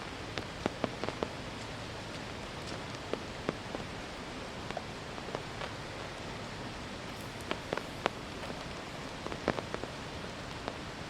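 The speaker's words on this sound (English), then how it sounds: "Me just taking my time, enjoying this last moment in the rain" Steady rain pours down on an outdoor disc golf course during a Southern California tournament, a constant dense hiss broken by scattered close drops tapping on surfaces, with no voices.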